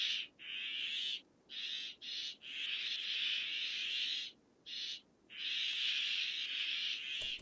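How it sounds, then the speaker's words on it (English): Ambient insect drone resembling cicadas in RimWorld, a steady high buzzing in long pulses broken by brief gaps, fairly faint and continuous with no voices. "It's like a royalty-free cicada sound."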